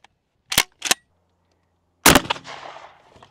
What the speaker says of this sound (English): Moving up to the shotgun, shooting a slug.